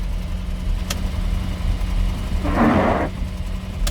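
Cold-started GAZelle 402 2.5-litre engine fitted with a Solex carburetor, idling with a steady low drone, a sharp click near the start and a brief louder burst of noise partway through.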